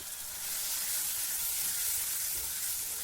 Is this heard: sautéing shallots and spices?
yes